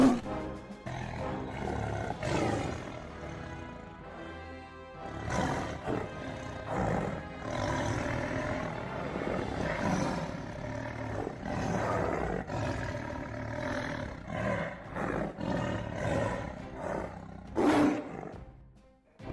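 A tiger roars at a zoo, giving repeated loud, deep growling roars that come in surges with brief pauses over about twenty seconds, strong and close, with no talking.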